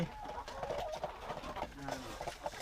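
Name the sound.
laying hens clucking in the coop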